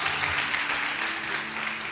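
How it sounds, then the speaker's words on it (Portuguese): A church congregation applauds during a sermon, a continuous close wash of clapping with a faint voice murmuring underneath. "Pode aplaudir Jesus por isso"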